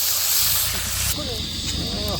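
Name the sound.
shrimp sizzling in hot oil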